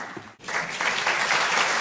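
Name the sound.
audience applauding a panelist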